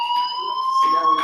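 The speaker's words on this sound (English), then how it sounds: "do you hear that fire alarm? That means you should be outside." Fire alarm ringing loud and continuous with a steady high electronic tone throughout, a voice briefly audible near the end.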